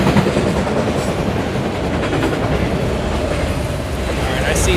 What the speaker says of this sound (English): It's a pretty short train.